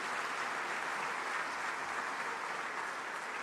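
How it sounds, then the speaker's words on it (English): Sustained applause from a large audience at the Afreximbank Annual Meetings, a dense steady roar of clapping that holds evenly from start to finish with no voices above it. "Let's celebrate with a resounding round of applause."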